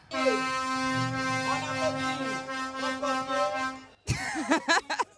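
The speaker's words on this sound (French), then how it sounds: "Je peux klaxonner?" A loud, sustained truck air horn blares for about four seconds during the Guiana carnival, then breaks off as people start talking close by inside the truck.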